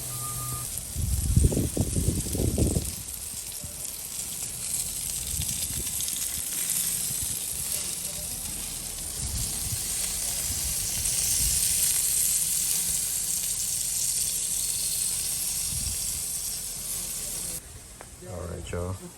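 Burgers sizzle on a grill with a steady broadband hiss that runs throughout, while someone talks over it in bursts near the start.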